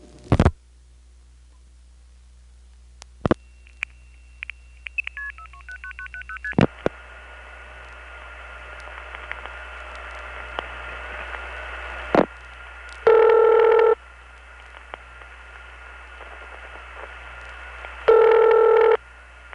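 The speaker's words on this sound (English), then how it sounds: "Now here's a call to a vacant level in 427 Maybrook via the Bronx route." A telephone call placed from New York City to a vacant number in 427 Maybrook, New York, routed via the Bronx through step-by-step switching: early clicks and pulses, then a long steady tone and two loud ring bursts over line hum.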